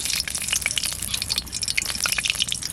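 Pomfret fish fries in hot oil with dry red chilli and bay leaf, giving a dense, crackling sizzle with rapid spatter pops throughout.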